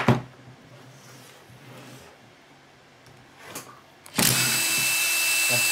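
A power drill, set to hammer mode, backs a screw out of an old bench grinder, with a few clicks and handling knocks before the drill starts and whirs steadily and loudly.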